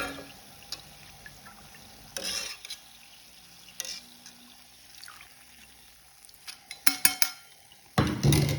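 Crispy homemade cheeselings fry in hot oil and get lifted with a slotted spoon, giving a soft steady sizzle broken by several louder scraping, clattering bursts near the end.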